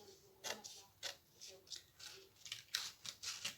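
Scissors snip through paper while cutting out a piece for an advent calendar craft, giving a series of short, crisp cuts in an uneven rhythm, close and fairly quiet, with a voice speaking softly around them.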